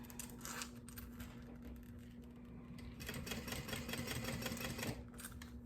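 A sewing machine stitches a square crossbody bag, a close, fast, even mechanical chatter with a steady hum underneath, pausing briefly before running again at a slightly louder, quicker pace.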